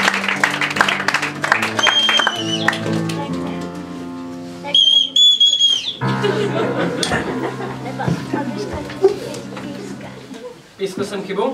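A referee's whistle in a Czech television game show gives a couple of short, shrill blasts amid lively talk, laughter and bursts of audience applause.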